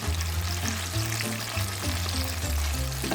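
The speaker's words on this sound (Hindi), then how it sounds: "अच्छा, इस तरफ तो मेरे ये बैंगन तले जा रहे हैं," Eggplant slices fry steadily in hot oil in a home kitchen, a continuous close sizzle and crackle that holds at an even level throughout, with no talking.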